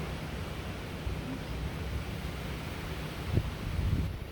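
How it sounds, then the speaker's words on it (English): Strong wind blows steadily outdoors after Hurricane Zeta, a broad rushing roar with buffeting gusts swelling near the end. "It's very windy."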